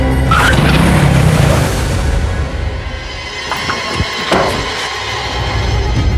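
A loud car roars and its tires skid as it brakes to a stop, the noisy rush fading as it slows, with a couple of thumps near the end.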